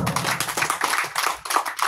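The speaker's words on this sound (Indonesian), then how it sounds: "Tepuk tangan dulu, tepuk tangan dulu." A burst of clapping from several people at a political campaign talk, steady and fairly close, with no talking over it.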